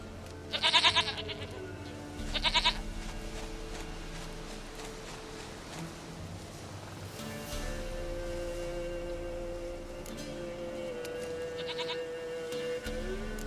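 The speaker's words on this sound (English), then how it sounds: "Goat of mine, dearest, sweetest goat." A goat in The Witcher 3 bleats twice in quick succession near the start, then once more later, loud and close over soft game ambience and a low musical drone.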